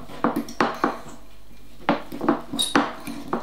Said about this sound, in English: And then you mix this stuff together.